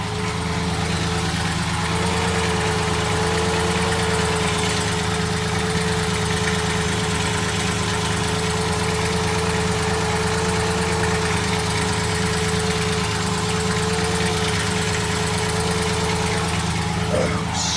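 A 1999 4.0 V6 idles steadily for a long stretch, a constant mid-pitched engine drone with a faint underlying tick suggesting lifter or valve knock, recorded close to the running engine.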